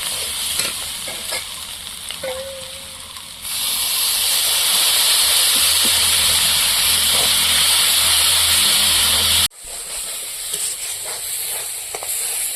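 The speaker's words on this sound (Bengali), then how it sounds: "এখন আমি একটুখানি সামান্য করে জল দিয়ে দেবো যাতে মশলাটা না পুড়ে যায়" Water poured into a pan of frying cumin and coriander powder while cooking cabbage brings a sudden loud, steady sizzle and steam hiss that runs for several seconds, then cuts off, preceded by quieter stirring with no talking.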